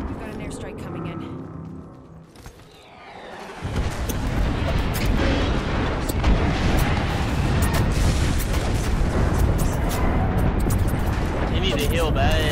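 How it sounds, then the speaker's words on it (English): Airstrike explosions in the Apex Legends video game set off a loud, sustained barrage of rumbling blasts that builds after a quieter opening and stays dense and heavy to the end. "Heads up, we've got an airstrike coming in"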